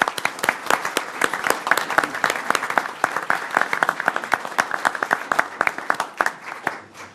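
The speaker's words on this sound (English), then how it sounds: "So let's give them a round of applause." A council meeting audience applauds for Boy Scouts with steady, dense clapping. The clapping is fairly close and continuous, then tapers off at the end.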